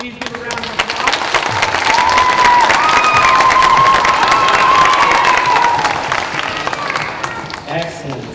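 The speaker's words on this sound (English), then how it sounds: "Please give a round of applause." A loud crowd of parents and children at an elementary school awards ceremony applauds and cheers, with a sustained whoop or shout riding over the dense clapping before it tapers off.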